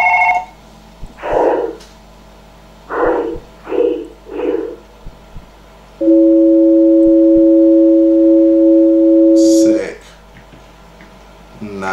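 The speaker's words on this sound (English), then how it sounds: "Pick up the phone." Telephone ringing in a late-night horror video game, a steady electronic two-tone ring held for several seconds, loud and close, following bursts of talk in the room.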